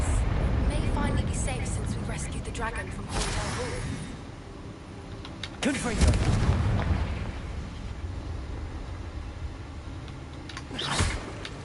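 Confringo spell blasts in the video game Hogwarts Legacy, heavy booming explosions with rumbling low end over continuous game sound, a few separate bursts spread across the stretch, with a voice speaking during the action.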